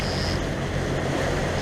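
A sailboat under way at sea on a delivery passage out of Toulon toward Porquerolles, with a steady wash of waves against the hull and gusting wind noise across the microphone, continuous and close, with no talking.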